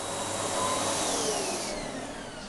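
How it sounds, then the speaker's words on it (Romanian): Household vacuum cleaner running steadily at close range, a continuous loud whooshing roar with a faint whining tone that shifts slightly, no voices over it. "Dă-i aspiratorul mai încet, Dani."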